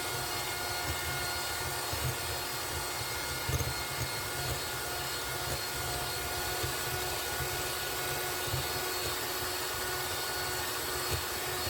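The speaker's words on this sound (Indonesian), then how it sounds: "Ini saya mixer dengan kecepatan paling tinggi, lebih kurang 5 menit ya teman-teman." An electric mixer beats pukis cake batter on its highest speed, giving a steady, close whirring drone with slight fluctuations and no talk.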